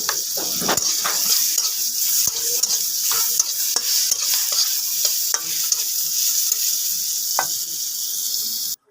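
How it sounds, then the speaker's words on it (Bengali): Potato pieces and drumstick stems fry in oil left from frying dried fish, a loud steady sizzle throughout with repeated sharp clicks and scrapes of stirring, close up, ending abruptly. "ওই শুটকি মাছ ভাজা তেলটাতে আমি আলু আর ডাঁটাগুলো ভেজে নেব"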